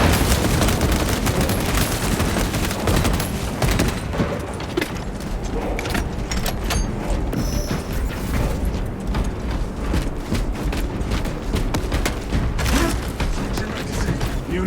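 A shock grenade goes off in Warhammer 40k Space Marine 2 amid dense, continuous gunfire, heavy booms and mechanical clatter, loud and unbroken throughout.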